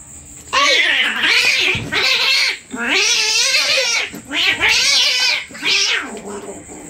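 Cats yowl and caterwaul in long, loud, rising and falling wails, about five drawn-out calls in close succession with short gaps, close by and dominating the scene.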